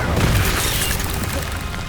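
A Confringo spell explodes during combat in the Hogwarts Legacy video game, a heavy, crashing boom with a rumbling, noisy tail at close range amid battle clatter.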